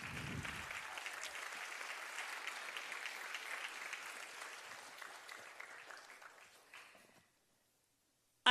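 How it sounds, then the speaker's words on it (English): An audience applauds after an Arangetram dance performance, with sustained clapping that gradually fades, then drops to silence before a brief sound at the very end. "So, one more applause for all of them."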